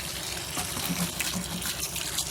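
Water runs from a tap in a steady, hissing, splashing stream that continues throughout, fairly close.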